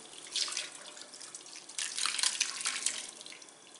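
Whey drains from homemade cheese as it is strained, a soft steady trickle and splash of liquid with brief louder gushes, close by and without talk.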